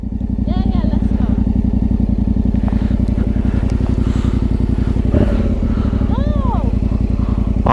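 A motorcycle rides up a big hill in rural Bosnia. The engine drones loud and steady throughout with some clattering, a brief dip in pitch midway, and voices audible over it.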